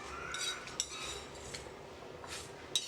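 Roasted spices for drumstick mango sambar are scraped from a pan onto a plate, producing soft metallic clinks and scrapes over a faint hiss, quiet and close, with a few sharper taps.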